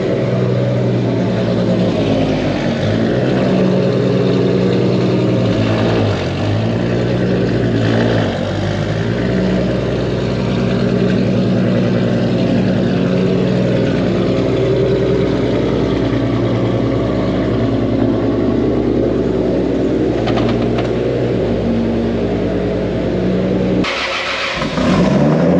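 Car engines repeatedly start, rev and idle loudly and close by while a modified Mini John Cooper Works track car and others are shuffled around, a continuous mechanical drone with a brief cut near the end and no talk.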